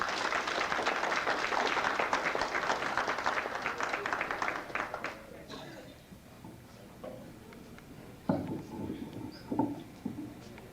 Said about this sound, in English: Give her a nice round of applause as she make her way up.